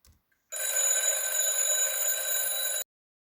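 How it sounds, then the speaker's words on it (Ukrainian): An alarm clock rings in a single continuous bright metallic burst lasting about two seconds, loud and close, starting and stopping abruptly in an otherwise quiet room. "Ось як дзвонить годинник."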